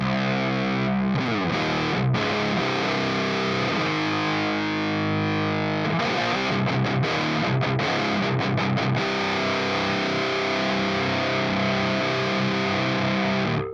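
Electric guitar through an amp simulator's mid channel, a crunchy, moderately overdriven tone, plays chords and choppy riffs, loud and continuous with no voices.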